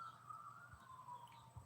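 A distant siren wails faintly in the background, its wavering tone drifting over quiet ambient noise with a couple of soft bumps nearby.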